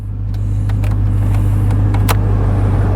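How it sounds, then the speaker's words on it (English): A 1988 Chevy Monte Carlo LS G-Body with a 305 V8 has its climate control fan blowing, a steady, even rush of air over a constant low hum from the idling engine, close and fairly loud throughout. "I don't know if you guys can hear the fan kicked on"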